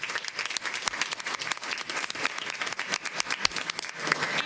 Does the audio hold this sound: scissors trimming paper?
no